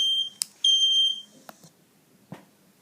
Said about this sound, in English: you hear the ringing fire alarm sounds and react accordingly to stop the fire.